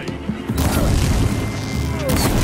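Barrels exploding in Horizon Zero Dawn, a loud dense boom with crashing debris that starts around half a second, sustains as a rumbling burst, and ends with another sharp blast near the end.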